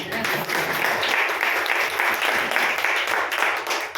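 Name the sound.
applause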